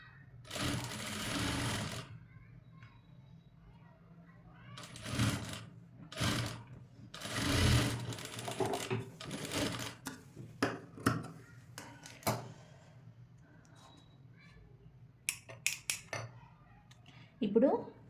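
A sewing machine stitches a cutwork blouse in several separate bursts of steady whirring, some long and some short, with quiet pauses between them while someone talks.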